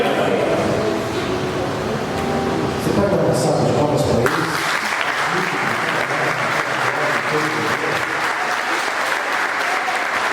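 Applause fills a church during a sermon, steady dense clapping that swells into a louder, brighter ovation partway through and continues sustained to the end.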